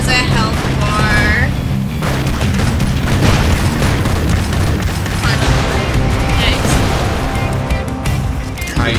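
Repeated cannon blasts and booming explosions from the run-and-gun video game Broforce, with a dense, continuous rumble of gunfire and blasts, and a voice talking over the action.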